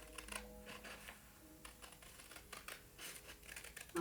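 Scissors slowly cutting a bat wing shape out of paper, a quiet series of small irregular snips and crisp clicks, close but faint.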